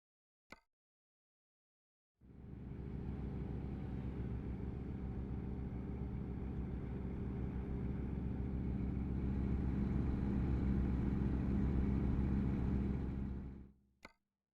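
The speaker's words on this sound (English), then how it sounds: "There we go, truck engine." A steady, low truck engine drone from American Truck Simulator starts after a short silence and holds evenly for about eleven seconds before cutting off, with a faint click at each end.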